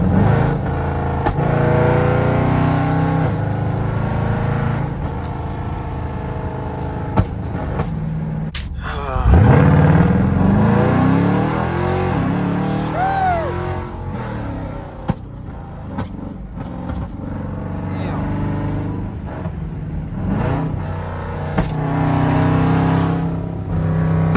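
A 5.7 Jeep engine on a night drive rumbles steadily from inside the cabin, with one sharp surge and crackle partway through, then settles back into a continuous drone.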